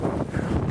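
Strong lake wind gusting up to 35 miles an hour, buffeting the microphone with a dense, continuous roar and rumble through a short burst.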